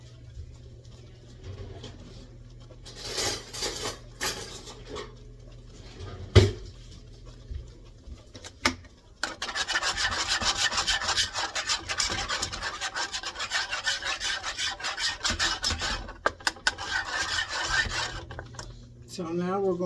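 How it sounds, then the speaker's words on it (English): Three cups of milk whisked for broccoli cheese soup, a close scraping and rubbing that starts in scattered strokes and then becomes a fast, steady rasping, with a voice talking early on. "I'm going to go ahead and get me a whisk."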